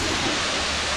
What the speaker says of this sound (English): All right, so we're here at the waterfall.